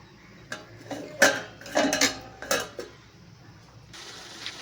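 A metal lid goes back onto a pot of cooking meat with a few quick clinks and one clattering settle, close by and fairly quiet, then a low background hiss.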